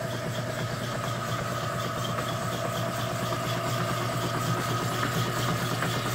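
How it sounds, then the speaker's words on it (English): A marine transmission on a test stand, driven from the coupling side, gives a steady reverse planetary gear whine over a constant, close engine-like drone that holds evenly throughout. "there goes the whine of the reverse planetary."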